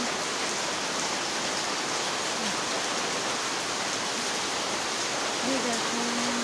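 Heavy rain pours steadily as a dense, even wash of noise with no letup, with a faint voice surfacing briefly near the end.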